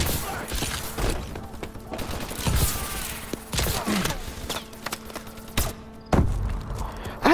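Rapid gunfire bursts and impacts from Call of Duty Advanced Warfare laser guns on a multiplayer map, sharp repeated shots and thuds, loud and close throughout with no talk.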